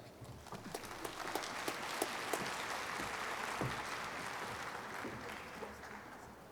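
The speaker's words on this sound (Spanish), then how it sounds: "Dr. Carlos MacGregor del IMSS, para quien les pido un fuerte aplauso." Applause from a conference audience after a speaker from a regional hospital is introduced, a dense steady patter of clapping with a few sharper individual claps, moderately loud and sustained throughout.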